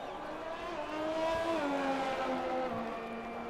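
A Haas Formula 1 car at Silverstone qualifying powers out of a turn in third gear, a steady high engine whine rising in pitch and then dropping slightly as it pulls away, heard from a distance without talk.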